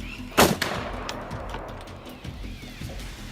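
A single sharp rifle gunshot from a leopard hunter cracks loudly near the start, followed by a fading echo and a quieter rumbling outdoor background.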